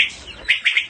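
Several short, bright bird chirps ring out outdoors, a couple of quick calls in the second half following fainter twittering, fairly close and alone without speech.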